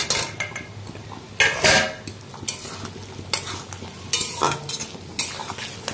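Vegetables and spices cook in a pan, with a soft sizzle beneath repeated scraping and clinking of a metal spoon stirring against the pan, close and uneven in rhythm.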